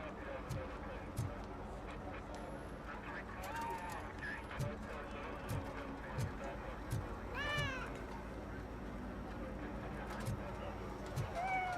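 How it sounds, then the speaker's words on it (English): A cat meows in the video game RoboCop Rogue City, several rising and falling mews spaced across a busy in-game scene with faint rhythmic clopping steps and background ambience. "I hear cat. Where's the cat?"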